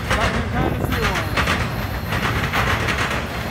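An intermodal freight train on a southbound Norfolk Southern line rolls past close by, its rail cars giving a steady, loud rumble with rhythmic clickety-clack over the joints and continuous wheel noise throughout.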